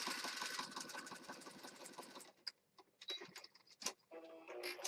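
A sewing machine with an auto needle threader hums and rattles steadily as it stitches around edges, then stops, leaving scattered clicks and small handling noises before running briefly again.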